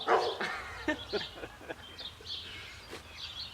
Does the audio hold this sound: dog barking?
yes